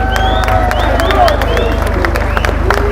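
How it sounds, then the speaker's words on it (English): Outdoor crowd at an anti-lockdown protest in Birmingham applauding and cheering, a steady dense wash of clapping and shouts with whistles, sustained and loud throughout. "Give a big round of applause to Jim, please."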